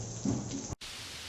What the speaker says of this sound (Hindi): बारिश का मौसम चल रहा है तो आप भी इस बारिश का आनंद लीजिए